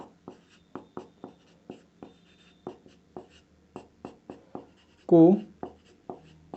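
Chalk or marker writing a definition on a board during a physics lecture on lenses, a steady series of short, sharp taps and strokes, with a brief spoken word partway through.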